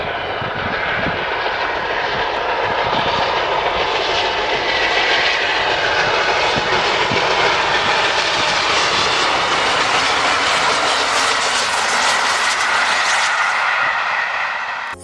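Steam locomotive climbing a gradient at full power, with flames in its smoke, heard as a loud, steady, continuous roar of engine and exhaust that holds for the whole stretch without any talk.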